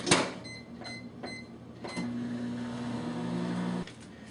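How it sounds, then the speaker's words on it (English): A microwave oven runs on defrost with pork chops inside, giving a steady low hum with a few clicks and clunks at the start, then holding an even drone for about four seconds before cutting off. "we take our pork chops and we defrost them in the microwave"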